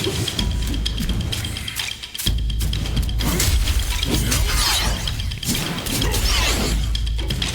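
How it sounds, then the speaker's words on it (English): Guangzhi hurling his weapon in Black Myth: Wukong, a loud sequence of whooshing swings, metallic crashes and shattering impacts, punctuated by a brief drop before the action resumes at full intensity. "Now he's going to throw his weapon."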